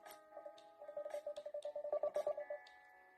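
Telephone dialing tones come as a quick run of faint, short, evenly spaced electronic beeps with a few soft clicks, and no one talks.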